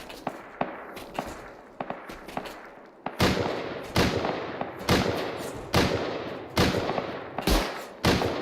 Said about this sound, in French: Hop, on nous tire dessus.